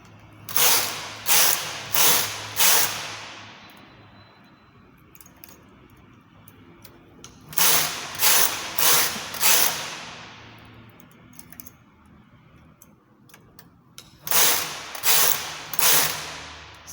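Knitting machine carriage knitting rows of a chunky machine-knit cardigan, heard as three bursts of rapid rhythmic clacking passes, each a few quick strokes, spaced several seconds apart with quiet in between.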